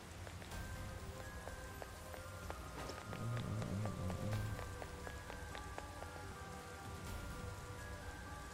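Rain falling in the video game Persona 5 Strikers, a steady, soft patter and hiss of raindrops on surfaces, continuous and even throughout, with faint game tones and low musical notes underneath.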